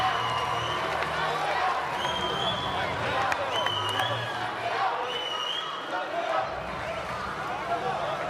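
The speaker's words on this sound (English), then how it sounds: "Crowd now starting to get raucous." A tennis crowd at a United Cup 2024 mixed doubles match grows raucous, with a steady roar of cheers and whoops filling the arena under a commentator's voice.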